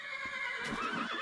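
A light brown horse in the Minecraft Mo' Creatures mod lets out a high, wavering whinny, close and clear, with faint hoof clops underneath and no voices.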